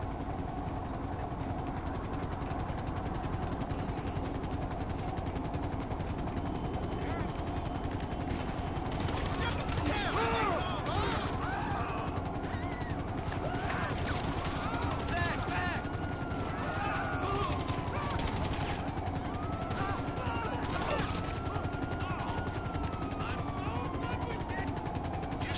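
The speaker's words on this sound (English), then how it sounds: "You see the police chopper up there?" A police helicopter in GTA V Online, with a steady rotor drone throughout, bursts of gunfire in the middle and rising whooshes layered on top, all under a constant game soundscape.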